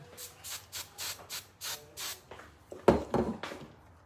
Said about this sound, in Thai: แล้วก็ฉีดสเปรย์นิดนึง